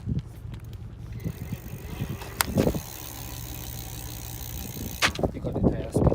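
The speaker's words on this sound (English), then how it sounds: "you got the tire spinning" The hub motor of an Ancheer folding electric mountain bike spins the tire under throttle, a steady whirring hum with mechanical clicks and a couple of louder clunks, recorded close with no talk.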